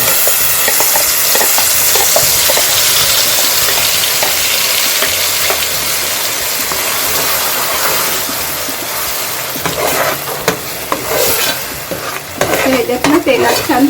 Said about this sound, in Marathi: आता आपलं तेल तापले त्याच्यात मी वाटप घालून घेते